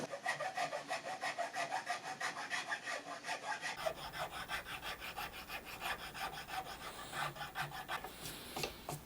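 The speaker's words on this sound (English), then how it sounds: "Right, I think I better move to the file at this point." A Grobet hardwoods file rasps rhythmically across a rosewood Telecaster guitar body, quick repeated back-and-forth strokes, close and steady, with the pace picking up partway through.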